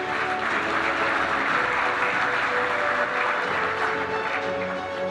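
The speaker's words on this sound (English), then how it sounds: "please give a round of applause" Sustained, dense applause from a banquet audience at a junior all-America awards ceremony, steady and fairly loud for the whole stretch with no break.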